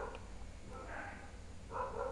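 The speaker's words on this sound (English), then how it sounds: "There is the disturbance of barking of dog." Dog barking faintly in the background, a couple of short muffled barks at a distance under a low room hum.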